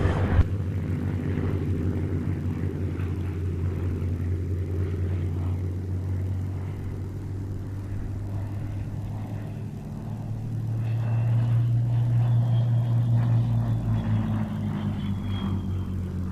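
A Mark 1 vintage propeller fighter, first flown in 1939, passes at an airshow with a steady droning engine that swells slightly toward the end, heard alone.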